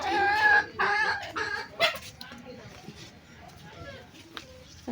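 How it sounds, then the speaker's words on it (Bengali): Chickens clucking as they are let out in the morning, a few near clucks in short bursts at the start, then quieter farmyard background while a person talks. "এই যে সকালবেলা মুরগি ছেড়ে দিচ্ছে।"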